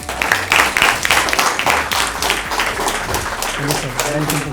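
A studio audience claps to welcome the guest on a talk show, a loud burst of close applause with speech mixing in as it tapers off.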